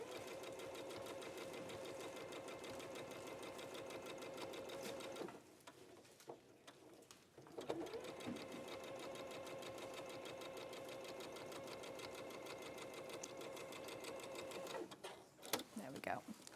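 A domestic sewing machine stitches strips of floral quilt fabric, a fast steady mechanical chatter up close, briefly pausing and restarting, under quiet talk from nearby voices.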